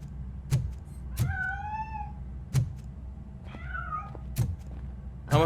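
A cat in the RoboCop video game meows twice with rising, drawn-out cries, set against periodic dull thumps and a low steady game backdrop, with no talking.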